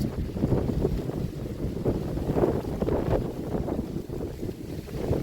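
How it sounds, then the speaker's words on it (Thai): Strong wind buffets the microphone in continuous rumbling gusts, loud and close, with no voices. "บ่ค่อยมีแดด มีแต่ลม"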